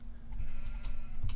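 Brief sheep bleats from the Farming Simulator 2015 game on a farm, a couple of short calls over a low steady engine-like hum, with no one talking.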